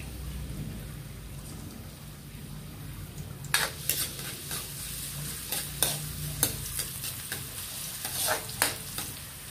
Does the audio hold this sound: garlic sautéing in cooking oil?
yes